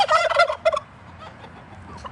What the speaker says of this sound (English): Goofy turkeys.